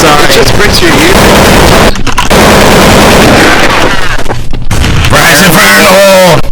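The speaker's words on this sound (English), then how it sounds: "the fire in the hole is so freaking loud!" A loud, clipped video game grenade voice line shouting "fire in the hole," distorted and blasting over continuous gunfire and explosions, with people talking over it.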